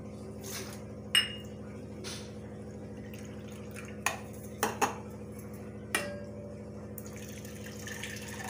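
Chana dal rinsed in a bowl with water, scattered clinks and taps of utensil against the dish standing out over a steady low background hum, no talking.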